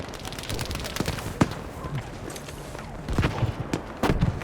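Explosions crack through a Battlefield V firefight, with a sharp blast near the start and a cluster of louder bursts toward the end, mixed with scattered gunfire-like pops over a constant battle din.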